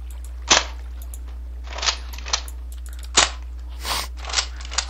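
A Nerf-style toy gun fires in Minecraft with Flan's Mod, giving sharp, clicky pops: a few distinct shots spaced irregularly, several with short hissy bursts, over a steady low hum.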